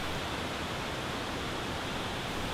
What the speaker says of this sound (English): Galovački Buk is a 16-meter high waterfall situated in the heart of Upper Lakes.